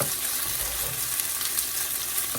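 Chicken fried rice frying in a pan over a large burner on high heat, a dense, loud continuous sizzle with faint stirring scrapes, close up.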